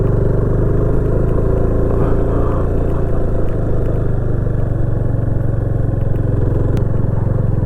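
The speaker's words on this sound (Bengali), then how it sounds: "উঠেই যাচ্ছি, ফার্স্ট গিয়ারে দিয়ে রেখেছি।" A four-wheeled vehicle's engine labours in first gear up a narrow hill road near Murguma Dam on Ajodhya Pahar in Purulia, a loud, steady droning rumble that holds throughout without pause.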